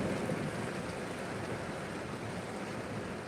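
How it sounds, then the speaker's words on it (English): Rain falling outdoors during lawn care work, a steady soft hiss of drops pattering on surfaces, fairly quiet and even throughout, with no voices. "Now that I'm out, it's raining."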